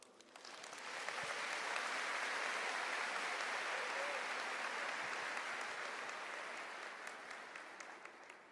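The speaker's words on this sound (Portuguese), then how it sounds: "Aplaude essa palavra." A congregation at a Catholic camp preaching event bursts into sustained applause, rising quickly, holding steady and loud for several seconds before slowly tapering off, with no one speaking over it.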